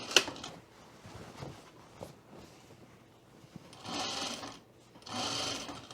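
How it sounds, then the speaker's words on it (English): A sewing machine stitches a half-inch skirt seam in two short bursts near the end, after quiet handling sounds of fabric. "We're going to sew this 1/2 inch seam."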